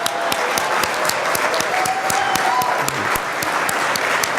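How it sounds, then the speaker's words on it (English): Dense, steady applause from a large standing audience at a journalism awards ceremony, loud and continuous throughout, with faint tonal sounds and voices mixed in. "All right, just applaud"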